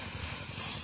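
Dal lentils are dropped into a hot pan with onion and chili, giving a faint, steady hiss of sizzling that carries on without talking.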